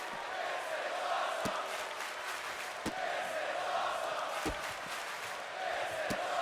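A wrestling arena crowd chants in unison, a broad, continuous roar punctuated by regular sharp clap-like accents about every second or so.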